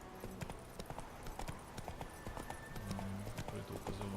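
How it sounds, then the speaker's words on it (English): Horse hooves clip-clop steadily in the Witcher 3 game as a horse gallops along, a continuous rhythmic thudding with occasional faint background game sounds. "Come on, Roach"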